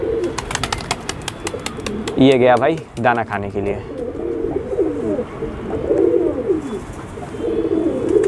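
Pigeons coo softly in the background while someone talks over them, with a brief flutter of wings partway through.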